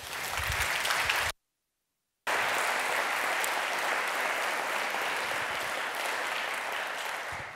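Steady applause from a lecture audience welcoming Professor Tim Brighouse, a dense, even wash of clapping that cuts out abruptly for about a second and then resumes at full strength until the end.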